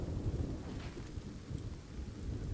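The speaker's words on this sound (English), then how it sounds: "the fact that I can now just summon lightning" Summoned lightning in the video game Kingdom Norselands brings a steady low rumble of thunder with a rain-like hiss, rolling continuously and moderately loud, with no talking over it.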